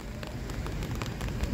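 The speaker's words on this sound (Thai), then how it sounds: "เพราะว่ามันเจอฝนนะครับฝนกระหน่ำลงมาเนี่ยดูสิ" Heavy rain pours down on an outdoor temple performance ground in Thailand, a dense, steady hiss with scattered close drop impacts, continuous and fairly loud with no voices.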